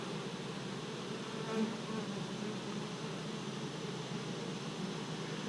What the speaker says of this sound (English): So we got a lot of bees here